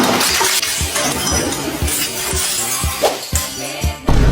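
Repeated sharp hard impacts of an iron hammer striking a glass aquarium, several blows at irregular intervals with bright clinking and cracking, loud and close.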